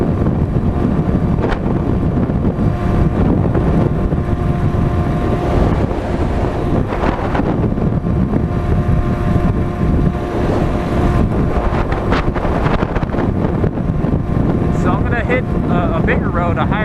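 Sur Ron Light Bee electric dirt bike fitted with a Luna belt kit and 2020 X controller, ridden at full throttle: constant loud wind buffeting on the microphone masks a faint motor whine, with talk over it.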